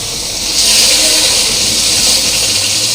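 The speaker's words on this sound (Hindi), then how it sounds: "ये इसमें तो थोड़ा सा हाथ बचा के पानी डालना है।" Water poured into semolina roasting in a pan for suji halwa sets off a loud, steady sizzling hiss that swells after a moment and holds close and strong.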